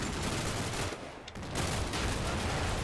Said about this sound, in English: So the infantry in the back are actually shooting up the PK guy over here.